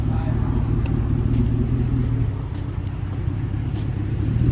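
A truck engine idles and rumbles steadily at a gas pump, a low continuous drone with faint higher knocks, while people talk nearby.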